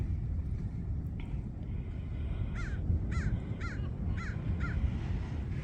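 Crows at a beach near Big Lagoon and Patrick's Point, giving a run of five harsh caws in a steady series at moderate distance over a constant roar of surf and wind.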